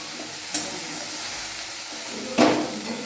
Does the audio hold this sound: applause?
no